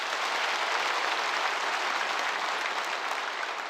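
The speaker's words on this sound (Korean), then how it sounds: "한번 박수 쳐주시기 바랍니다" Steady, dense applause from a church congregation at a Wednesday worship service, filling the room evenly and loudly from start to finish with no voices on top.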